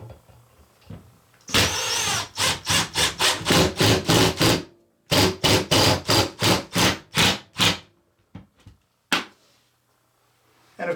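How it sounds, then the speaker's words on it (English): A power driver sinks a screw into a wall stud while a floating shelf is mounted. Two long runs of loud, close, rapidly pulsing bursts are separated by a short pause, then a few brief final taps. "get your other screw and drive it into the stud."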